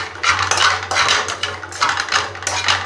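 A utensil stirs turmeric, salt and chili into bitter gourd in a pan, sounding as repeated loud metallic scrapes and clinks in an uneven rhythm, close up with no talking.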